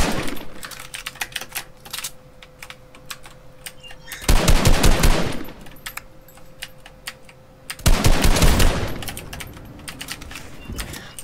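Rapid gunfire in a shooting video game, loud dense bursts around 4 to 5 seconds and 8 to 9 seconds, with sparse clicky shots and a steady tone between them; no talking.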